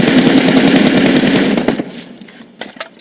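Automatic gunfire in PUBG Mobile during a jump-and-shoot move, a loud, dense rapid burst for about a second and a half that cuts off, followed by a few faint, scattered clicks.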